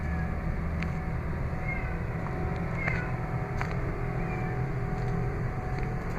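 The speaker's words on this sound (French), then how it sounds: "J'entends un chat." A cat meowing from inside a container, faint high cries surfacing a few times over a steady low engine-like rumble and background noise.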